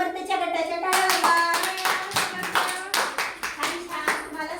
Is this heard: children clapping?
yes